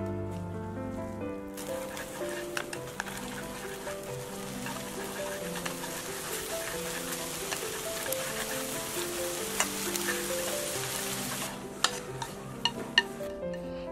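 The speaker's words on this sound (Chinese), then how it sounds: "锅里面倒入多一点的油，再倒入蛋液，" Beaten egg poured into plenty of hot oil in a pan sizzles with a soft, rain-like crackle and occasional ticks as it is stirred, faint and steady beneath gentle background music.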